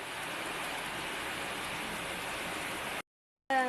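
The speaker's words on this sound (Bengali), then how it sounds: "একদম মুসলধারে বৃষ্টি" Heavy rain pours down outdoors in a dense, steady wash of noise. It breaks off abruptly for half a second near the end, then resumes.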